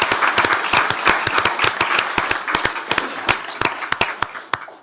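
Clapping from an audience at a county commissioners court meeting, a few sharp, distinct hand claps ringing out close by in an uneven rhythm rather than a dense roar, continuing for several seconds.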